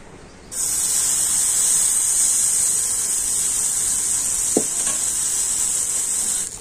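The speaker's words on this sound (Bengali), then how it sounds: "আর এবার আমি এর থেকে 1 হাতা ব্যাটার নিয়ে ফ্রাই প্যানের মধ্যে দিয়ে দেব" Wheat flour batter hits a lightly oiled hot frying pan and bursts into a loud, steady sizzle that holds evenly to the end, with one brief clink partway through.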